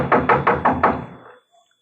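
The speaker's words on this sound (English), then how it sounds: "Knock on the door, Abner." A radio-drama sound effect of knocking on a door: five firm, evenly spaced heavy knocks, close and loud, ringing out briefly afterward with no voices.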